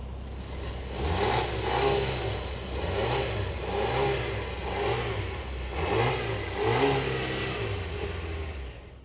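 A 2024 Volvo XC90 T8 Recharge plug-in hybrid engine revving repeatedly, with about five rising and falling throttle blips in steady rhythm, loud and close with no talk.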